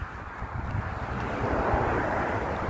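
Wind outdoors beside a burned-down shop, buffeting the microphone in a low, rumbling roar that swells slightly in the second half, no voices.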